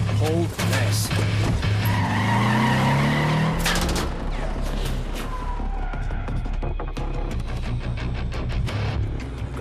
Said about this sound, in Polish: Dobrze, że mamy transporter opancerzony,